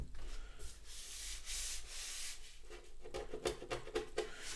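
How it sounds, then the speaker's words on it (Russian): Sandpaper rubs across a Renault Laguna 2 headlight lens in quick back-and-forth strokes, a close, quiet rasping that turns into faster, choppier rubbing toward the end. "Берем наждачку. И трем все это, пока не исчезнет,"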